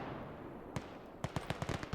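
Gunfire from a group of soldiers in the video game Gates of Hell, a rapid string of sharp cracks after a quiet stretch, fairly close and loud over low background ambience.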